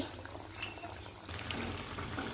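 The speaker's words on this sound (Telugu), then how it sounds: "ఇలా చేసుకొని ఆయిల్లో వేసుకోవాలి వీటిని చక్కగా బాయిల్ చేసుకోవాలి" Vadas fry in hot oil, a steady close bubbling and sizzling wash that grows slightly louder partway through, with no talking.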